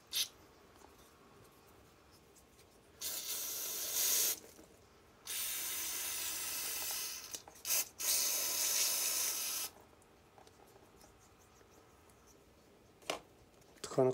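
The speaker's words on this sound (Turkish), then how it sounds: "Deliklerden şu şekilde balta spreyinin çıktığını görün yani." Balta carburetor cleaner sprays from an aerosol can into a Fiat 126 carburetor in several long hissing bursts of a few seconds each, close and loud, with quiet gaps between them and no talk.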